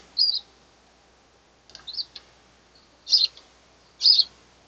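Pet birds give four short, bright chirps spaced about a second apart, close and clear against a quiet room.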